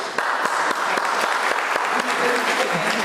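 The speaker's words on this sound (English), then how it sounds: "Give yourselves a round of applause" Steady applause from a church youth workshop audience, brisk and sustained with a few sharper claps standing out, voices faint underneath.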